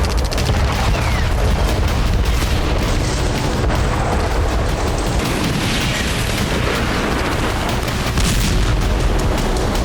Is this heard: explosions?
yes